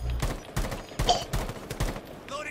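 Gunfire from the Rainbow Six Siege video game: several short, sharp bursts of shots at irregular intervals, fairly close and loud, with a brief electronic tone near the end.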